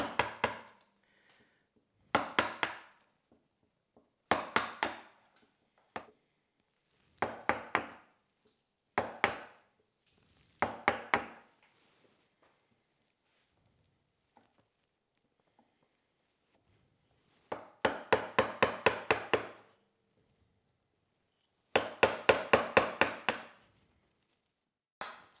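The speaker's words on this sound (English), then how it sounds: "Put that in the vise and just use a wide chisel and we'll just work that out." A wide chisel chopping out wood held in a vise for a raised panel door, giving bursts of sharp, close knocks in quick clusters separated by quiet pauses.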